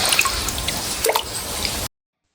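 Water dripping off a toy that has just been dipped in water, with quick close drips and squishy splashes over about two seconds before cutting to silence.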